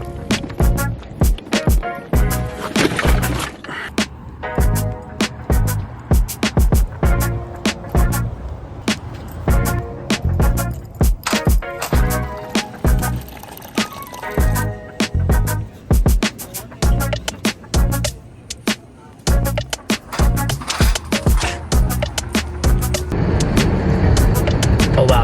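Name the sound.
car driving on the road in traffic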